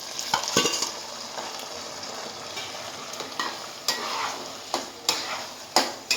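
Mashed cooked dal being stirred into a coconut chutney mixture in a pan, with irregular scraping stirs and soft clatters standing out over a faint sizzle, close and fairly quiet.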